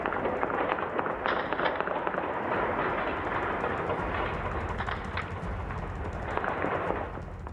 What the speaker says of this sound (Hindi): जो गोलियों की आवाज आप सुन रहे हैं, ये हवाई फायरिंग की जा रही है